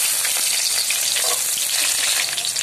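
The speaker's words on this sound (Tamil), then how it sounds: "கடலப்பருப்பு பொன்னிறமாக ஆனோடனே நம்ம வெங்காயத்தை சேர்த்துக்கலாம் ஃப்ரெண்ட்ஸ்" Chana dal and onion sizzle steadily in hot oil, a dense continuous frying hiss with faint crackles, close and loud with no voices.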